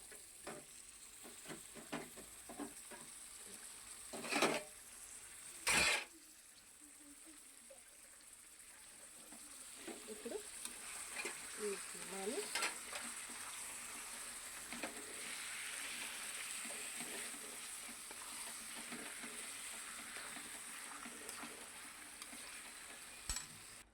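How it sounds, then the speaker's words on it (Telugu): Beef keema frying in a pan gives a soft, low sizzle with occasional sharp scraping and clattering knocks of stirring, all fairly quiet. "నా ఫేవరెట్ గొడ్డు మాసం కీమా వేసుకున్నాను దీన్ని ఇలా వేసుకోవాలి"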